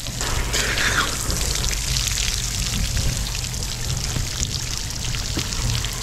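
Water pours and splashes steadily onto a hat close by while camping, a continuous loud gush with small trickles and drips throughout.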